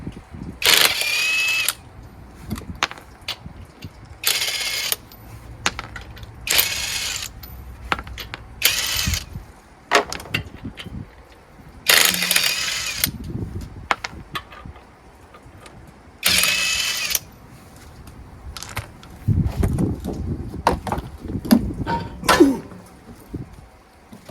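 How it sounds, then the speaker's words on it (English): Lug nuts are loosened with a ratchet on a raised front wheel of a 2010 Ford F-150 SuperCrew pickup, giving bursts of quick, close clicking separated by pauses, with no talk. "Now I can safely take off the lug nuts."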